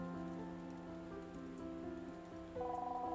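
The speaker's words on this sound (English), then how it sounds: "I don't remember it ever raining so much" Rain falls steadily in the hand-painted metroidvania RPG Twilight Monk, a soft constant patter under sustained musical tones from the game's score.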